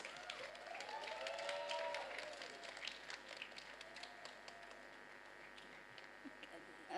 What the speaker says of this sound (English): let's all give her a warm round of applause